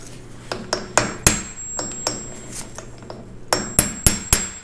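A hammer strikes a VW Split Bus spindle in sharp metallic blows with a ringing tone, about a dozen hits in irregular bursts, close and loud.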